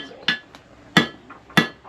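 Three sharp, evenly spaced hammer strikes ring out close by, each a bright metallic knock with a short decay.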